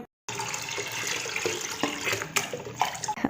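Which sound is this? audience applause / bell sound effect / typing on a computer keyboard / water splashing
water splashing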